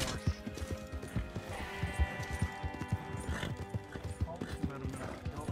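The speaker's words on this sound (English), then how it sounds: "She must be on a horse." Rhythmic hoofbeats of a galloping horse in Red Dead Redemption 2, close and clear, with a horse whinnying partway through.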